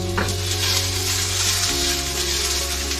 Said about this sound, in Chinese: 煎肉的声音就觉得很疗愈